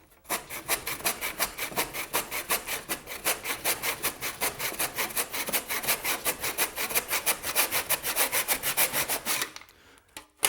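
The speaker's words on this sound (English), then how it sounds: "I'm going to cut a 45-degree angle here. Place your saw in the slots." A hand saw cuts wooden molding at a 45-degree angle in a plastic miter box, with steady rhythmic back-and-forth rasping strokes, close and continuous for about nine seconds before stopping.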